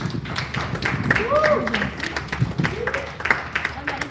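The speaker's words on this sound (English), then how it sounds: "Give him applause." Passengers on a canal tour boat in The Hague applaud their skipper, a modest patter of claps from a small group mixed with chatter and voices over the open-air setting.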